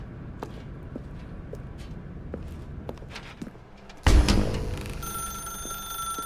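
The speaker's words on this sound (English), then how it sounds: "Now pick up the phone." A telephone in The Stanley Parable: Ultra Deluxe suddenly rings out loud and close after a stretch of quiet footsteps and shuffling, the bright electronic ring continuing to the end.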